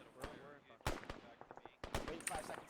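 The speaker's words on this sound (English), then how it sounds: "I think that's an enemy machine gun team." Enemy machine gun fire during platoon training, heard as several sharp bursts of rapid shots at moderate distance, with voices talking in between.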